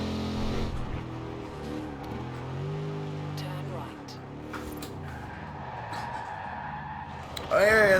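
An in-game car with a two-speed Powerglide gearbox slides and skids in Forza Horizon 4, tire squeal and engine drone wavering under steady talking. A louder squeal rises at the end.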